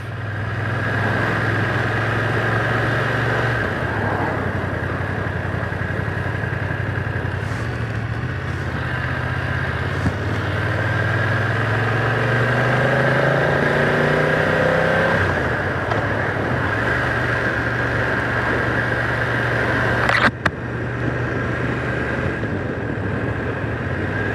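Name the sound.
2025 BMW F900R motorcycle engine while riding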